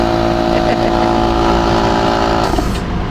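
An air compressor runs loud and close in a steady, droning motor hum with a constant tonal whine, briefly shifting in pitch near the end.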